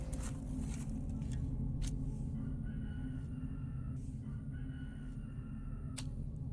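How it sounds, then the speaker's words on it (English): Chickens in the background, faint crowing and clucking calls scattered over a steady low hum and distant traffic-like rumble, with a few brief sharper calls standing out. "You hear the chickens in the back"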